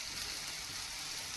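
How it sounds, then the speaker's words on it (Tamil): Chopped green chillies dropped into hot oil in a pan for bachelor chicken masala, giving a soft, continuous hiss and crackle of frying with no voices. "நறுக்கி வச்ச பச்சை மிளகாவை இதில் போடுறாங்க"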